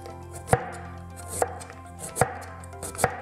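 A knife cuts through white cabbage for a coleslaw, four crisp, evenly spaced chops thudding on a board, close and clear with quiet pauses between.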